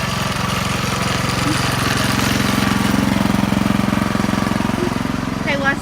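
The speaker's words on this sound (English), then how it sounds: "Are you still snow blowing, Lester?" A snow blower runs through a blizzard with a steady, loud, throbbing engine drone for the whole stretch and no change in pace.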